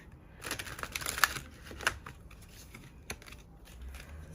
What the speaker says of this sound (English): So I have to slowly shuffle these cards because they're very slippery